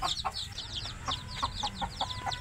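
A chicken clucks repeatedly in short, quick bursts, fairly close, with a steady rhythm over a quiet outdoor background.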